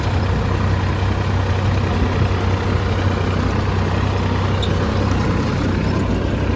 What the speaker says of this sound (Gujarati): આ ચાલુ ટ્રેક્ટર છે